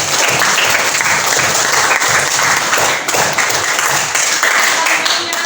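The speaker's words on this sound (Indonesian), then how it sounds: "beri aplaus untuk kelompok 2." Sustained loud applause from a classroom audience fills the room, steady clapping from many hands for a presenting student group, with faint voices underneath.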